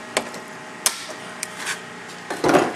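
A pop rivet is set through a snap into the upper section of a Ryfab door, giving a few sharp metallic clicks and snaps that end in a louder, fuller crunch near the mic.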